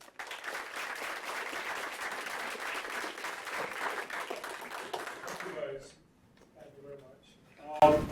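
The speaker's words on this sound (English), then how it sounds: "let's give our speaker a round of applause." Audience applause fills a lecture hall after a data science talk, dense steady clapping for about five seconds before thinning to a few scattered claps and a brief final burst.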